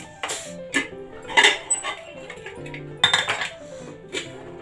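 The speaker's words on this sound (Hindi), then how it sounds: "कुकर की गैस निकल चुकी है। अब हम इसे खोलेंगे।" Metal clinks and clatters as a pressure cooker lid is handled and lifted off after the steam is released, a few sharp clanks close by with brief rattles between.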